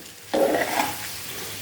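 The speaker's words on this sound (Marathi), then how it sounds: "आणि अगदी मीडियम टू लो गॅसवरती आपण ही फ्राय करणार आहोत." Okra (bhindi) frying in a pan over medium-low heat, a sudden sizzle that starts abruptly and then settles into a steady crackling hiss.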